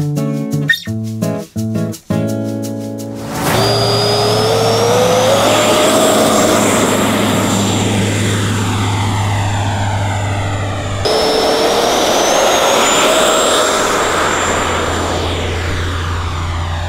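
Two FMS and Freewing Yak-130 RC jets fly past with a loud, steady, high-pitched electric ducted-fan whine that rises and falls in pitch as each passes, the second pass sounding smoother and more hissing.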